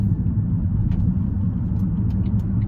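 Small Smart fortwo EV electric car cornering on the road, heard from inside as a steady low road and tyre rumble with a few faint clicks, continuous and close, no talking.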